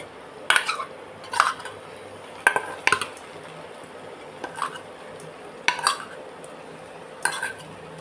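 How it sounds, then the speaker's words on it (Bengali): Fried prawns dropped one by one into kochur loti (taro stolons) in a pan, a series of spaced clinks and scrapes of a utensil against metal over a faint background hiss. "এবার আমি এর মধ্যে যে চিংড়ি মাছগুলো ভেজে রেখেছিলাম সেগুলোকে আমি এক এক করে দিয়ে দেবো"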